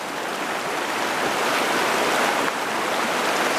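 Fast river water pushes around a wading angler's legs in a trout stream, giving a loud, dense, unbroken rush close by.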